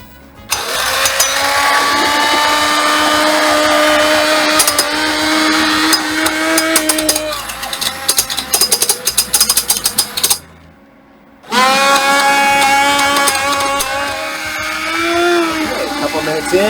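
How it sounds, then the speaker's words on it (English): An immersion blender whirring loudly through a thick Mexican potato leek soup with beans, a sustained high motor whine that shifts in pitch as it works, cuts out briefly near the end, then resumes. "another couple more minutes of blending it with the immersion blender"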